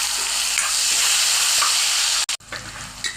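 Brinjal (eggplant) pieces frying in a hot pan for a Sankranti mixed vegetable dish, giving a loud, steady sizzle that cuts off abruptly for a moment, then returns slightly quieter with small stirring clinks.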